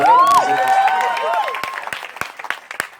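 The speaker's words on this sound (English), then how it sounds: "give him a round of applause." Audience at a Sharda University event breaks into applause: a voice rings out briefly at first, then scattered, fairly close claps build and carry on steadily to the end.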